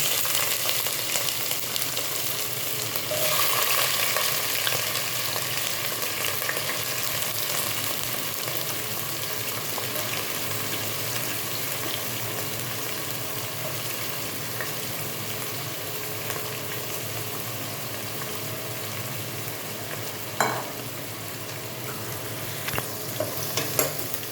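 Carrots and beans stir-fried for Szechuan fried rice, a steady bright sizzle with scraping stirs running throughout, close and continuous with a few sharper clanks near the end.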